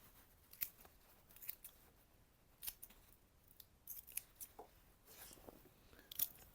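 Scissors snip thin roots off lifted dahlia tubers, a series of faint, close, crisp cuts at an irregular pace with quiet gaps between them.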